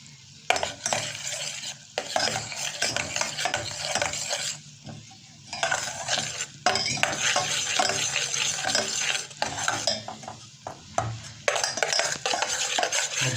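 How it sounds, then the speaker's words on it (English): Homemade golden syrup turning brown in a pan is stirred steadily, with spoon scrapes against the bottom and a faint sizzle, in irregular bursts with short pauses, close and moderately loud. "I stir it well, but otherwise it should be stick in the bottom."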